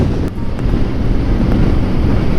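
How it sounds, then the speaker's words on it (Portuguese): Strong wind buffets the microphone in a steady low roar beside Argentina's Ruta 40 in Patagonia, heard alone without any voices. "o vento tá vindo aqui, ó"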